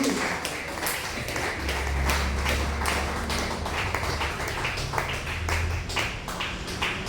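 A church congregation claps loudly in the name of Jesus, a sustained rapid mass of hand claps with a low hum underneath, steady and fairly distant throughout.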